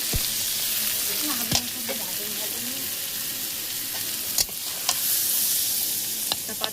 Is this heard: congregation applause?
no